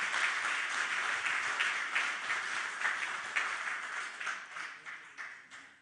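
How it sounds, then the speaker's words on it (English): An audience at a Namibia Biomass Industry Group event gives a warm round of applause. The dense clapping is moderately distant and thins and fades toward the end. "So can we please just give him a warm round of applause?"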